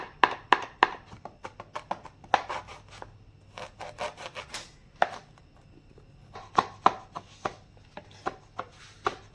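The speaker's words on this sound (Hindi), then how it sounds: "ये देखें जी अदरक हमारा रफली चॉप हो गए" Fresh ginger being roughly chopped with a knife on a board for Manchurian gravy, a run of sharp, close chopping knocks in quick bursts with short pauses between them.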